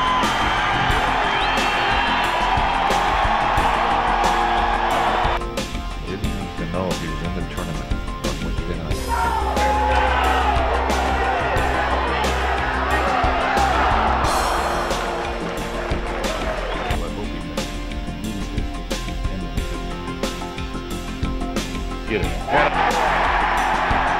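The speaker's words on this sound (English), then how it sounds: "And now listen, the applause won't stop." A golf gallery at the 1991 PGA Championship applauds and cheers a winning putt in a long, swelling roar of clapping and whoops, loud and sustained, with surges and dips over about twenty-four seconds.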